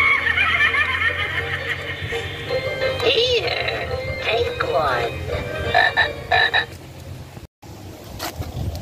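A mini talking witch toy plays a loud electronic frog croak effect with cackling mixed in, a busy continuous burst that cuts off with a brief gap near the end.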